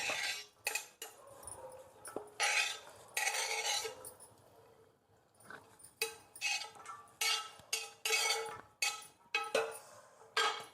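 Chopped onion and tomato tipped into a bowl for a quick chutney, heard as a run of clinks and scrapes of a utensil against the bowl, close and fairly loud in irregular bursts, with no talk.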